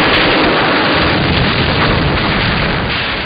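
Sustained rumbling barrage of artillery fire and explosions, a dense continuous roar of booms with no clear gaps, loud and close throughout.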